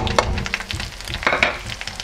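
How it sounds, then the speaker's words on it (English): Spices frying in hot oil for a crab curry, a close, steady crackling sizzle with light stirring scrapes and small pops. "fry the spices in oil"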